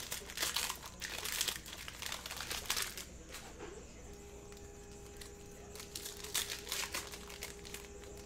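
A 2019-20 Panini Mosaic cello pack of trading cards is torn open up close, with loud crinkling and ripping bursts of plastic wrapper, then quieter rustling as the cards are handled.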